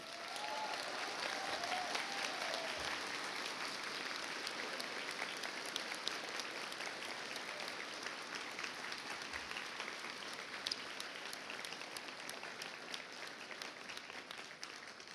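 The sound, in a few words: audience applauding graduation ceremony faculty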